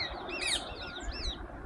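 Rose-ringed parakeet calls in a few shrill, rising and falling chirps, loud and close, over a low background rumble.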